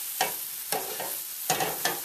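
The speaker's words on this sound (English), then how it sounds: "You can already hear that nice little sizzle going on." Steady frying sizzle of Chinese okra curry in a pan, with a few clinks of a utensil stirring against the metal.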